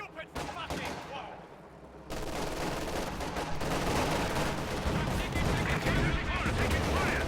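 Gunfire and explosions in a World War II tank battle game, with T-34 tanks under anti-tank gun fire; a dense, sustained barrage of shots and blasts builds louder after a brief lull, with a voice briefly heard.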